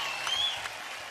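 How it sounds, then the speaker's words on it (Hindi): A studio audience on a televised singing competition breaks into loud, dense applause for the performers, a brief burst of clapping heard alone. "जोरदार तालियां हमारे गर्ल पावर के लिए।"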